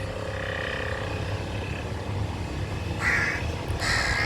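A crow caws twice near the end, loud, harsh calls following a quieter stretch of outdoor background noise.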